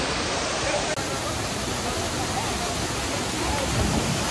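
Steady, loud roar of the Kalmandavi waterfall at Jawhar, a dense unbroken rush of falling water filling the scene close by, with no voices over it.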